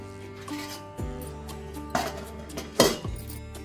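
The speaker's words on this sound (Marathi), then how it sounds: "आता आपल्याला झाकण ठेवून चांगला उकळ काढायचा आहे।" Metal clanks and clinks of cookware, a few distinct knocks as a lid is set onto a pot of mackerel curry to simmer, against a quiet background hum.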